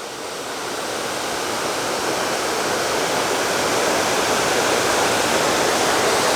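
Goose Creek Falls pours in a steady, loud, full roar of falling water reached after a mile-and-a-half hike, a continuous broadband rush with no voices over it.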